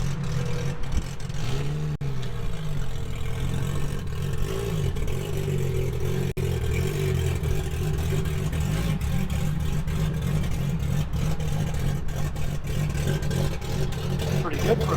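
A 1000-horsepower single-turbo BMW E90 335 with a DCT gearbox idles and creeps up onto a trailer, its low engine drone steady and close with occasional clatter, while a person talks over it.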